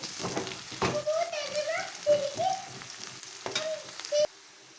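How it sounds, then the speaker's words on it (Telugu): Potatoes fry in a pan with a low sizzle and occasional utensil knocks, while a person talks over the cooking at close range. "ఇక్కడైతే ఆలు అయితే మంచిగా ఫ్రై అయిపోయాయండి"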